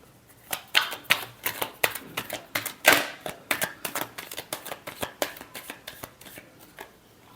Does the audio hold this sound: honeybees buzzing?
no